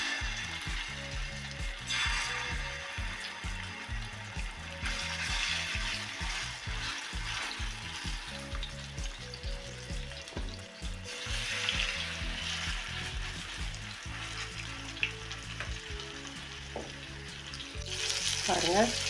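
Fish pepper fry sizzling in hot oil on an iron dosa griddle, a steady loud crackling fry that runs continuously with occasional clattering of a utensil and brief swells in intensity.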